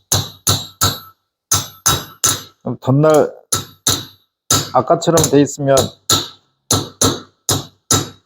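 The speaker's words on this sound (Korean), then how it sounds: "낮추려고 망치질을 여러 번 해야 되잖아요" Sharp metallic hammer strikes tapping the chip breaker of a Japanese hand plane, a dozen or so quick evenly spaced blows, close and loud, pausing while someone speaks briefly in between.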